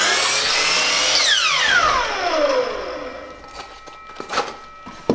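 A miter saw cuts a length off a cedar board during an outdoor cabin build in the rain. The blade whines loudly through the cut, then spins down in a falling tone, followed by faint clatter.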